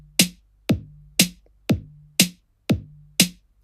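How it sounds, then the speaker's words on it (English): Simple drum beat from the BandLab 808 electronic kit, with a kick on beats one and three alternating with a snare, seven evenly spaced sharp hits, each with a low tonal tail, loud and alone. "At the moment, I'm using an electric drum kit called the 808"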